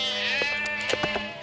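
A sheep bleats in the video game Trade Empires, set in Shang dynasty China: one loud, wavering bleat that holds for over a second with faint clicks beneath it.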